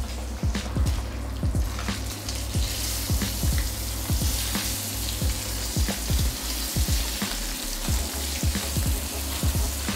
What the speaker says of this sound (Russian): Жарим недолго, буквально по 2, максимум 3 минуты с каждой стороны